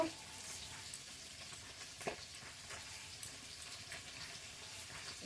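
Desi pakal fish fry in a pan with a faint, steady sizzle and scattered soft crackles and pops.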